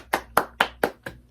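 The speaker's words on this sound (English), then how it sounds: "let's give it a round of applause." Five evenly spaced hand claps from a single person, sharp and close, with brief gaps between each clap and no talk.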